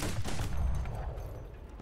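Rapid, heavy bursts of AS 42 autocannon fire in the War Thunder video game, a continuous close, loud fusillade of shots.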